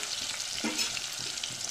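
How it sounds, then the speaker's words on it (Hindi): Whole paneer pieces frying in hot oil in a pan for matar paneer, a steady close sizzle and crackle with a brief stirring scrape partway through. "इसको ऐसे ही हमने फ्राई करना है पूरा पूरा पनीर।"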